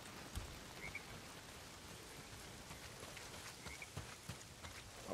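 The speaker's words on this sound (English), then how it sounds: "Well, not if it's pissing down rain." Heavy rain pours down in the Days Gone video game, a dense steady hiss of falling drops with occasional louder splashes and a faint croaking frog in the background, no talking.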